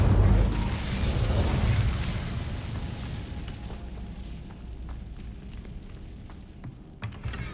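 A fire spell cast in Hogwarts Legacy bursts with a loud whooshing blast at the start, then fades into a crackling, rumbling tail with a few small pops near the end.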